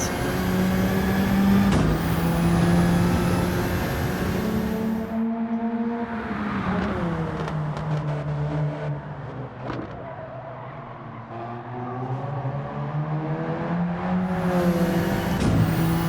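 Car driving in Gran Turismo 7, with an engine note that climbs, drops sharply on gear shifts, then rises again, loud and continuous for the whole stretch, without any speech.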